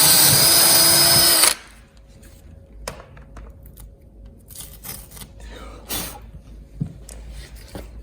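A power drill whirs loudly and steadily for about a second and a half, drilling a hole to fit a motorcycle boot cover, then cuts off, leaving quiet clicks and handling noises.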